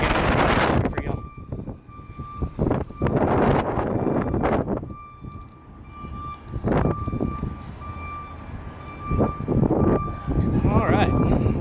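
Gusty wind buffets a microphone outdoors by a federal courthouse in Nashville, Tennessee, coming in loud rumbling bursts that rise and fall, with a reversing beep sounding faintly behind and someone talking over parts of it.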